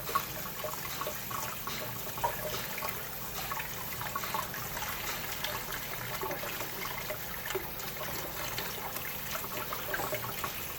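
Running water washes soft-shelled crabs being cleaned, a steady close splashing and trickling stream with small irregular spatters throughout.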